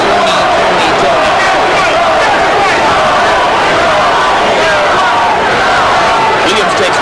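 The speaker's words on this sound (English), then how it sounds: "Now the crowd begins to chant" A boxing crowd at a James Toney versus Charles Williams fight chants Toney's name, a loud, continuous roar of many voices filling the arena from start to finish.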